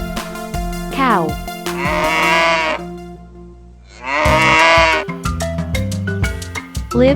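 A cow moos loudly and clearly, with long drawn-out calls up close and sheep-like bleats mixed in among the farm animal sounds.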